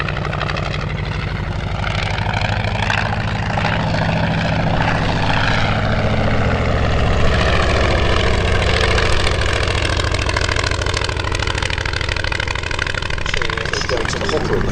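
Vintage aeroplane flying at the Shuttleworth Collection family air show, a loud steady engine drone with propeller throb that holds level across the whole stretch, with a voice talking over it.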